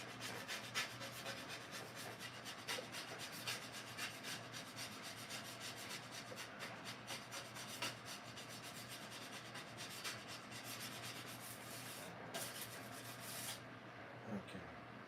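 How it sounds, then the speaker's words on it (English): Continuous rasping of a scraper dragged over painted wood, with steady repeated strokes throughout, close and moderately loud with no talking. "Got this mostly scraped off."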